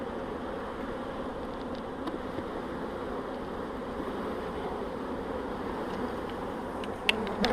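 A dense, continuous drone of honey bees fills a spring hive inspection, the swarm buzzing steadily up close with a few faint clicks and knocks of frames near the end.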